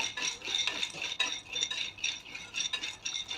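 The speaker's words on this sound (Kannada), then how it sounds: "ಬಾಣಲೆಯಲ್ಲಿ ಒಂದು ಬಟ್ಲ ಶೇಂಗಾಕಾಳನ್ನು ತಗೋಬೇಕು ಶೇಂಗಾಕಾಳು ಚೆನ್ನಾಗಿ ಹುರ್ಕೋಬೇಕು" Peanuts dry-roast in a kadai for raw onion chutney, a steady close scraping and rattling of nuts against the metal pan with repeated stirring strokes, no voices.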